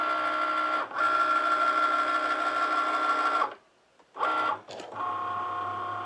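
A Cricut cutting machine scores fold lines on cardstock with a steady motorized whir and tonal hum, stopping briefly, then restarting in short runs with faint clicks.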